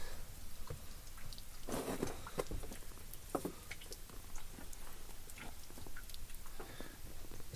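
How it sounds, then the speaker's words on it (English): Small hail pattering on the ground and gear near Wells, BC during a weak winter thunderstorm, a faint irregular ticking with a few louder close impacts. "Little hailstorm coming in now."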